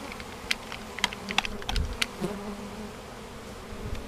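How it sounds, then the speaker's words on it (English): Faint bee buzzing hums low under scattered clicks and taps during a hive relocation, with brief louder buzzes passing close now and then. "they're starting to swarm now"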